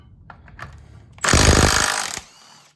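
A power tool spins off a 15mm bolt on the secondary clutch of a Polaris Rush ProRide snowmobile, a loud close buzzing rattle lasting about a second, with quiet clicks and handling noise before and after.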